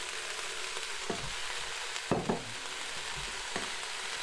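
Meat sautéing in a pot, a steady broadband sizzle with occasional louder crackles and stirring knocks, close and continuous throughout.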